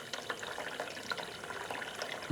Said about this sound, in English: as you can see, the water is still pouring right now